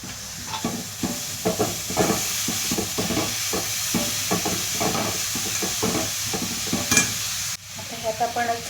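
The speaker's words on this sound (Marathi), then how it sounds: "तर आपण घालणार आहोत त्यात बारीक किसलेला कोबी" Finely grated cabbage frying in a pan for a cabbage paratha filling, with constant sizzling and frequent quick stirring and scraping strokes close by, then a short pause before a few more stirs.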